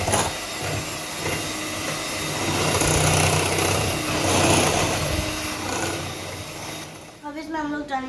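Electric hand mixer whirring steadily as it beats cake batter for a vanilla cream cake, a continuous loud motor drone for about seven seconds before cutting off, with a voice speaking briefly at the end.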